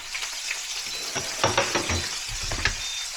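Shrimp frying in a hot pan while being stirred, with a steady close sizzle broken by clattering scrapes and knocks of the utensil against the pan.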